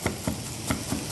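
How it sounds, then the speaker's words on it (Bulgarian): A knife chops fresh dill and green onions together very finely on a board, giving five sharp, evenly spaced cuts close up with no talking. "Нарязвам ги заедно, максимално наситно."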